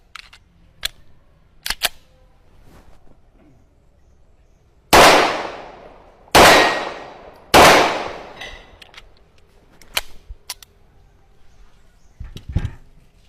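Three loud, sharp gunshots ring out about a second apart, each with a long echoing tail, as three targets are hit. Fainter clicks and handling noises come before and after.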